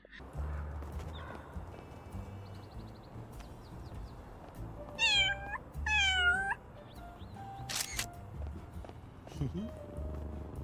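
A cartoonish kitty meows several times in Little Kitty Big City, bright rising calls standing out over a busy city backdrop with low rumble and a clip-clop of hooves.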